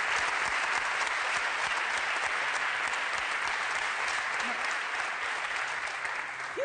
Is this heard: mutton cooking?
no